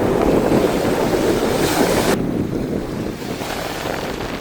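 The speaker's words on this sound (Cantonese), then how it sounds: "係咪好大風啊？" Strong wind roars across a beach in Okinawa, a loud, steady broadband rush buffeting the microphone, with surf noise beneath; the blast eases slightly about halfway through but keeps blowing.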